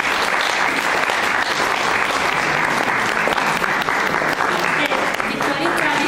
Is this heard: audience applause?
yes